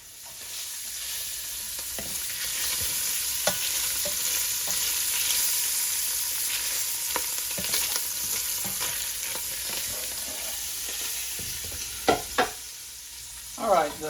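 Kielbasa sausage frying in a pan for cabbage and noodles, a steady broadband sizzle that runs throughout with occasional stirring clicks and scrapes, and a few louder clatters near the end.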